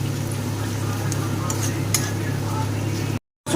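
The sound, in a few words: garlic paste frying with onions in a pan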